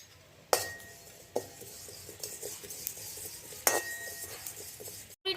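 Fennel seeds are dry roasted in a kadai over the stove, a quiet stir broken by a few sharp metallic clinks and scrapes of a utensil against the pan, with no one speaking.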